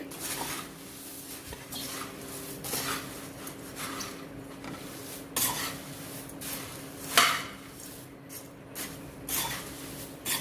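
Spiced puffed rice is stirred in a pan over the flame, making scraping, rustling and light clinking of a utensil against metal, close and irregular, with no talk.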